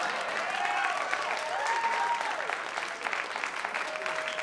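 A stand-up comedy audience applauds in a continuous wash of clapping at a steady, moderate level, with a few faint voices mixed in.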